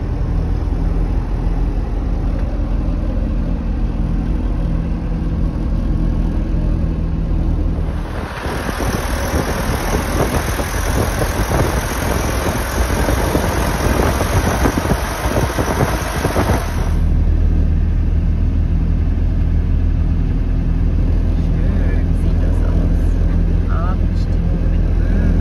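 A car engine roars up as the vehicle speeds along a firm, packed sand beach track in Oman, with wind and rumble building for several seconds before easing back to a steady drone.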